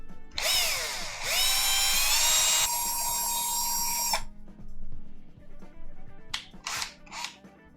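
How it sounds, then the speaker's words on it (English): A small rotary tool grinds the thread off a screw for an Xbox controller shifter mod, a loud high whine running for about four seconds with a pitch shift midway, then several short bursts. "I'm going to ground it down with a little bit of sandpaper so the thread is removed"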